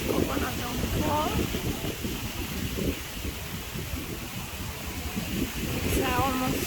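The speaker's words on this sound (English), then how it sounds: "It's very, very windy." Strong wintry wind gusting outdoors at a lake home, a broad rushing roar with microphone buffeting, steady throughout, with a voice speaking intermittently over it.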